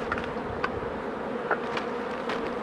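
Honeybees swarm around a small Mini Plus hive while being shaken off the frames, making a dense, steady buzz close by with individual bees zipping past in brief louder passes. No voices are heard.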